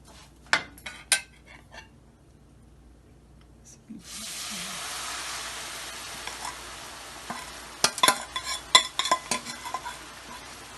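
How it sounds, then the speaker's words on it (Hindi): Sugar syrup is poured into semolina halwa in a pan, producing a sudden sustained hiss and sizzle, followed by clattering spoon-on-pan stirring strikes; a few utensil clinks come earlier. "अब हम इसमें शीरा डालेंगे।"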